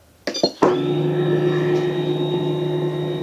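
A Philips 7000 Series pasta machine loaded with 250 grams of flour starts up after a few clicks and then settles into a steady, close motor hum with a constant drone.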